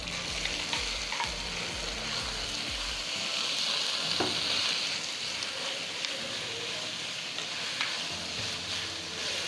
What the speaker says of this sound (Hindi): अब हमने चिकन का कीमा इसमें ऐड कर देना है और इसका कलर चेंज होने तक इसको थोड़ा सा पका लेना है।